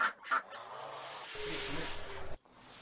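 Chickens squawk and cluck close by on a farm, a couple of sharp calls at first followed by a longer run of noisy clucking that cuts off abruptly.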